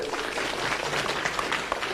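A crowd at a political gathering applauds, producing a dense, continuous wash of clapping that stays fairly loud and even from start to finish.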